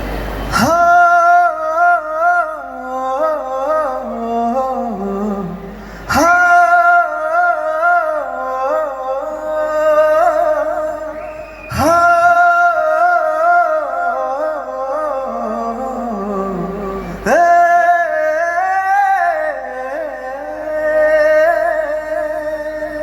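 An actor hums a film score melody live at a trailer launch in a mall in Thiruvananthapuram. The voice is close and steady, carrying four long sustained phrases with a brief pause between each.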